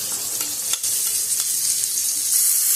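Spice paste fries in hot oil with pointed gourd, a loud, steady hiss and crackle of sizzling that continues without pause, joined by occasional soft stirring scrapes.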